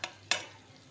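Chicken mince cooking over low heat with black pepper, turmeric, salt and red chilli, two quick spoon scrapes against the pan over a faint, soft sizzle.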